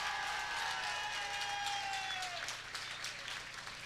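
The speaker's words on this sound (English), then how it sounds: "How about a round of applause for these two great fighters and one hell of a fight" Audience at a kickboxing event applauding the fighters, a steady wash of clapping with crowd noise and a faint whistle, fairly distant.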